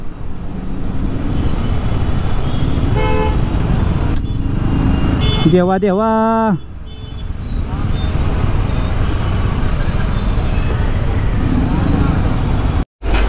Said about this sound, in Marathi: बघा केवढं जाम आहे बघा, पूर्ण सगळं जाम